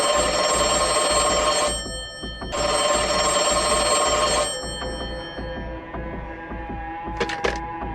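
An old telephone ringing amid the ruins of a burned house: two long bright rings separated by a short pause, followed by fainter lingering tones and a couple of sharp clicks.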